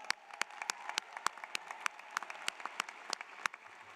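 Sparse, distant clapping from a crowd at a university commencement ceremony, individual claps popping out irregularly over a soft, steady wash of applause.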